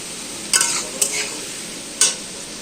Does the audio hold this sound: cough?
no